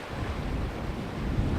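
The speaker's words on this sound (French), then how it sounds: "près de la mer, les vagues, le vent." Coastal wind buffets the microphone beside the sea on a shoreline footpath, with a low, constant rush of waves and gusts underneath; faint and continuous, no talking.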